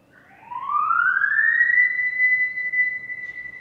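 A single siren wails upward and holds a steady high tone, loud and fairly close, with no talking.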